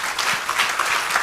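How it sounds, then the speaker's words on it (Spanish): A church congregation applauds the Lord, with a brief, dense burst of steady clapping. "Denle un aplauso al Señor."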